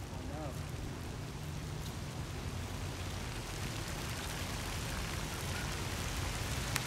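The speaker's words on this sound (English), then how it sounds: "It's raining bad." Heavy rain pours down during an outdoor fishing trip, a dense, continuous hiss of drops drumming on surfaces with a low rumbling undertone, loud and unbroken throughout.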